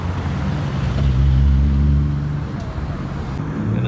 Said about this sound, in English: More cars rolling in.